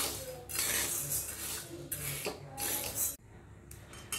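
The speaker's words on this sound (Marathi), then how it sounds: "त्यानंतर ही ज्वारी आपल्याला व्यवस्थित अशी भाजून घ्यायची आहे।" Sorghum (jowar) grains dry-roast in a pan, rattling and clattering densely as they are stirred, with a brief pause near the end before the rustling resumes.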